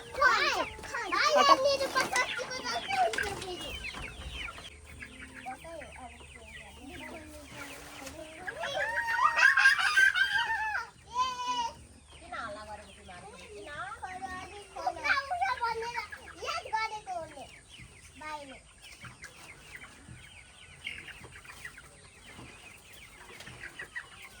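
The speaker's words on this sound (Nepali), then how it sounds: "म कुखुराहरू खोल्छु" Chickens cluck and squawk close by as they are let out, busiest at the start and again around the middle, mixed with children's voices and chatter.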